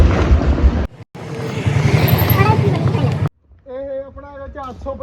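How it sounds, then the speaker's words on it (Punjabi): A 2020-model tractor engine runs with a loud, rough, steady drone for about three seconds, then cuts out as a voice takes over. "ਆਪਾਂ ਸ਼ੁਰੂ ਕਰਦੇ ਆਪਾਂ ਟਰੈਕਟਰ ਤੋਂ ਆਵਾਜ਼ ਤੋਂ ਸ਼ੁਰੂ ਕਰਦੇ ਹਾਂ"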